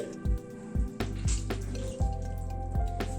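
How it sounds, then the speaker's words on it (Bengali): Soaked soya chunks are squeezed by hand, giving several wet squishes and drips of water falling into a bowl, close and quiet, with a faint background hum and no talking. "এইভাবে জলটাকে পুরো চিপে নিয়ে তুলে নিচ্ছি।"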